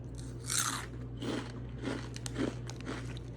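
Walker's crisps are bitten and chewed close up, giving a few loud, dry crunches spaced out over a quiet steady hum, with no talking.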